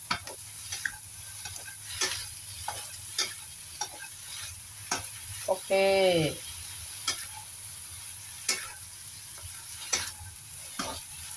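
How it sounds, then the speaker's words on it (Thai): Eggplant being stir-fried in a pan, with a spatula scraping and tapping at a steady pace over a faint background sizzle and one louder, longer scrape near the middle. No one speaks. "แล้วก็มาผัดอีกนะคะพลิกไปพลิกมานะคะ"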